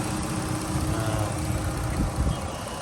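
A 2012 Dodge Grand Caravan SXT engine idling, a steady low mechanical hum heard close with no talk over it.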